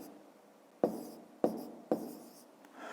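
Pen writing numbers by hand on paper, close strokes with three sharp taps as the pen lands, each followed by soft scratching that fades.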